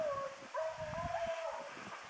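Hunting dogs trailing a bobcat through rough, rocky country, giving drawn-out baying howls and yips that rise and waver, somewhat distant, over outdoor background noise without talk.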